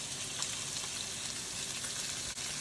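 Seasoned oxtail pieces searing in a hot pan for oxtail stew, giving a dense, even sizzle and crackle that carries on throughout, close but fairly soft, with no talking.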